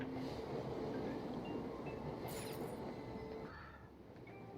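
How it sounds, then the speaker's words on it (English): A train pulls into a station in the video game Persona 5 Royal, rumbling steadily with a dense rolling roar and a brief high squeal before the noise eases slightly toward the end. "And didn't that train just come in?"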